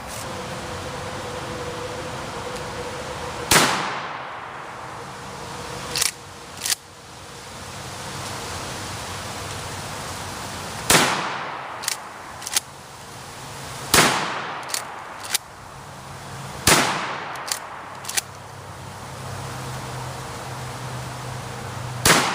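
Six loud, sharp blasts from a Remington 870 pump shotgun firing True Ball rifled slugs outdoors, spaced several seconds apart, each with a brief echoing tail and rustling between shots.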